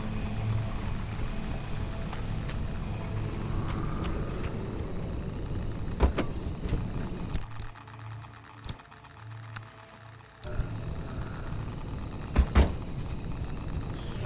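A car drives in the video game Pacific Drive, a steady engine and road rumble with sharp clunks and knocks, a brief quieter dip midway, then the drive resumes; no voices.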